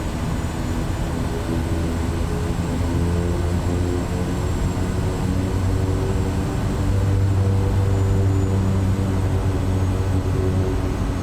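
A simulated SWS Kodiak propeller aircraft in Microsoft Flight Simulator 2024 rolls for takeoff with flaps at zero, its engine drone loud, continuous and steady throughout with no voices.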